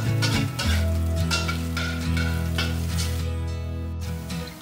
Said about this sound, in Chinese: 将姜片稍微炒一下